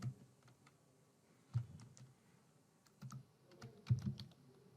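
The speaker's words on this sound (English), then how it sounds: "here I'm typing my name" Keys tapping on a computer keyboard in short irregular bursts, close and quiet, with occasional heavier thuds between the clicks.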